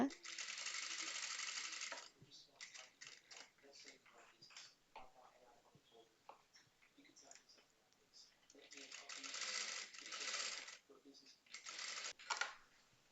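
A sewing machine stitches the hem of a baby girl's dress in bursts of rapid mechanical whirring, with pauses of quieter handling noises in between.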